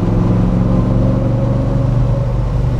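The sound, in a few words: 1972 De Tomaso Pantera 5.8l V8 engine running unevenly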